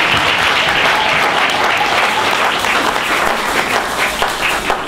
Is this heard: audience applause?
yes